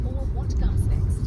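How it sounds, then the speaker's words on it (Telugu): Heavy road traffic in rainy Hyderabad near Tirumalagiri makes a steady low engine rumble close by, with a person talking over it. "ఇంత ట్రాఫిక్"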